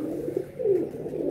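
Pigeons coo softly nearby, a low throaty warble rising and falling over a faint background hum, with no talking.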